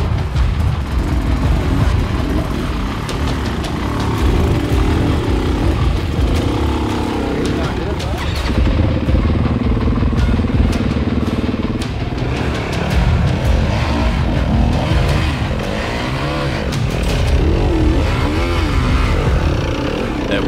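ATV engines drone and rev on a trail, a continuous rough rumble that swells and dips under frequent talking from riders close by.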